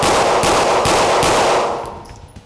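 Rapid bursts of gunfire in an indoor shoot house training scenario, several sharp shots in quick succession, loud and close, then fading into a reverberant tail.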